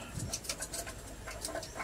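Pigeons coo softly in low, throaty bursts, with faint chirps and rustling around them.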